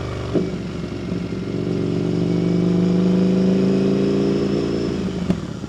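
A Triumph FTR 1200 motorcycle idling and burbling on a residential street: a steady, close low engine drone that swells and settles, with a couple of sharp pops near the start and end and no talk.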